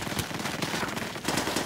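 Rapid automatic fire from a PPSh submachine gun with a straight magazine in Call of Duty: World at War, a dense, continuous burst of close gunshots filling the whole stretch with no talk.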